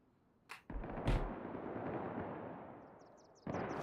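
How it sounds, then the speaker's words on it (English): Gunfire in a video game raid, with sharp isolated shots near the start followed by a long rumbling decay and another loud burst near the end, all without speech. "Gunshots immediately."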